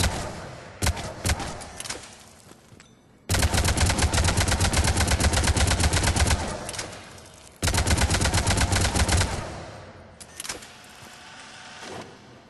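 An Avenger assault rifle in the Mass Effect 3 video game fires loud, rapid full-auto streams, two sustained bursts of several seconds each, with short bursts and scattered single shots around them.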